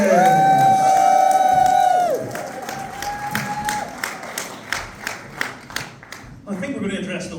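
A comedy gig audience claps and cheers, with a loud whoop first, then scattered, rhythmic clapping that gradually thins out.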